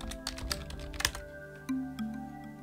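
Computer keyboard typing during an Unreal Engine 4 editing session, a quick run of close key clicks for about a second, then quieter keystrokes fading under a steady hum.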